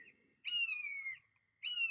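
A bird calls from outside a window in two long, clear whistled notes, each held for about a second and gliding slightly downward, separated by a short silence, with a faint knock at the very end.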